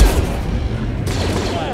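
Rapid blaster fire in the Star Wars Jedi Fallen Order video game: a loud, dense volley of shots with a booming low end, sustained across the brief moment.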